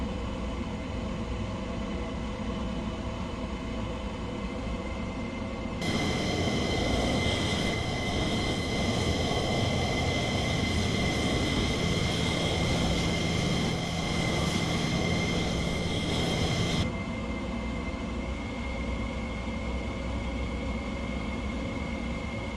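Low-flying F-15 jet in Microsoft Flight Simulator 2020, a steady broadband engine roar with tonal whine that swells loudly mid-clip for about ten seconds, then drops back to a quieter cockpit drone.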